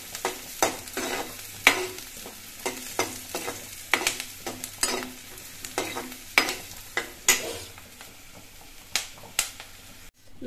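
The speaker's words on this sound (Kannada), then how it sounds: "ಈಗ ಈರುಳ್ಳಿ ಮೆಣಸಿನಕಾಯಿ ಎಲ್ಲ ಫ್ರೈ ಮಾಡಿ ತೆಂಗಿನಕಾಯಿ ಮತ್ತು ಕಾಳು ಹಾಕಿದ್ದೀನಿ." Onions, chillies, coconut and sprouted horse gram fry in a tempering while being stirred, with a continuous close sizzle broken by regular sharp scrapes and knocks of the spoon, and no talking.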